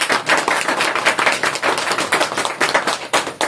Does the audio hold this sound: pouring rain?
no